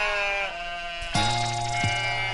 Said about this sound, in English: and the sheep